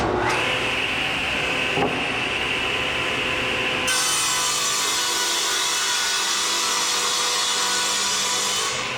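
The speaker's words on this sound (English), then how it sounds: "First, we need to cut our wood." Marine plywood is sawn for a boat transom repair, a steady continuous rasping cut running the whole time with a change in tone partway through, close and loud with no talking.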